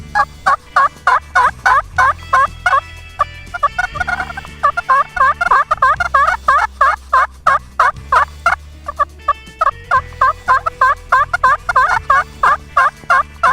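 A mouth or friction turkey call imitates two hens yelping at once, loud, close series of rapid raspy yelps and clucks overlapping in rhythmic bursts, with a brief pause partway before resuming, aimed at drawing in a tom.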